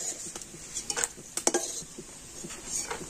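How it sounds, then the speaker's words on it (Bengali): A utensil stirs dry fruits lightly frying in ghee in a pan, producing soft, irregular scrapes and clinks over a faint, continuous sizzle. "তো সমস্ত ড্রাই ফ্রুট গুলো ঘিয়ের উপরে আমি হালকা করে ভেজে নিচ্ছি"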